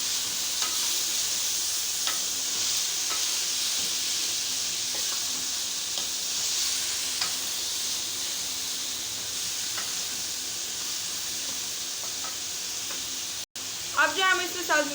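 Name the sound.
frying beans and onions with beef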